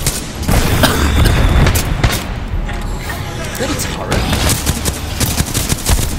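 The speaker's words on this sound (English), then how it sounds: "It's a turret." A turret in the video game Titanfall 2 fires bursts of loud, close gunshots in rapid succession, mixed with booms and continuous battle noise.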